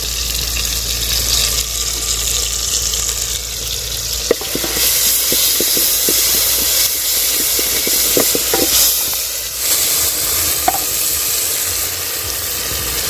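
Tomatoes and chili sizzle in a pan over a village cooking fire, a loud, steady frying hiss with sharp spatters and occasional clinks of stirring in the middle stretch.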